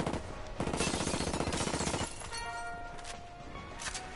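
Rapid bursts of automatic gunfire in the video game Ghost Recon, a dense rattling volley for about two seconds that gives way to quieter scattered shots and tonal game sounds.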